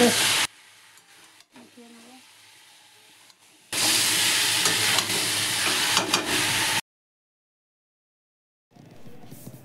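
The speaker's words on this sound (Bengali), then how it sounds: "ওই মশলাটা আমি দিয়ে দেবো। দিয়ে আরও ভালো করে সব কিছু মেশাবো।" Dry-roasted spice mix is stirred into chicken frying in a pan, giving loud bursts of sizzling and scraping broken up by abrupt quiet gaps.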